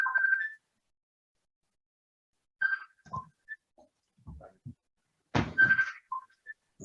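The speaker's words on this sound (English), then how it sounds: "That's a phone." A mobile phone rings in short, bright electronic tone bursts, in three separated clusters across a quiet room, with a few soft knocks and thumps between them.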